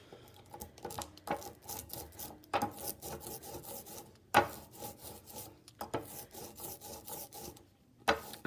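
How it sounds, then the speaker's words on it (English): A brayer rolls black ink across an inking tray, producing a sticky, Velcro-like tearing rasp in repeated back-and-forth passes, close and moderately loud, with brief pauses between strokes. "you should be hearing that tearing sound, sort of like Velcro"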